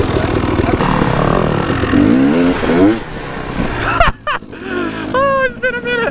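Dirt bike engine riding around a huge abandoned house, a close rough roar with revving and rising pitch sweeps, shifting and fading near the end as short whining revs follow, with people talking over it.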